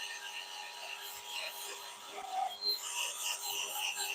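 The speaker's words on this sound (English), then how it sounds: "Once we're done sanding this" Soft, continuous rasping and rubbing of sandpaper against a cypress wood bowl spinning on a lathe, faint and steady with slight scratchy variations.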